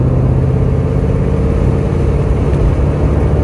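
A sports car engine rumbles steadily and loudly up close, a deep continuous drone with no voices over it.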